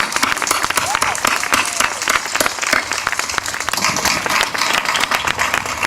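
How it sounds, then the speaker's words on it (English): A crowd applauds steadily at a women's 5K Race for the Cure charity event, dense clapping filling the space loudly and continuously with a few cheers mixed in. "One last applause for these women."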